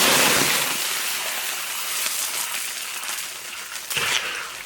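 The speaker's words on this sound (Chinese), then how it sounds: "糖色冒泡" Rock sugar caramelizing in hot oil in a large pot hisses and bubbles with a dense, continuous crackle that is loudest at the start and gives a brief stronger sizzle near the end.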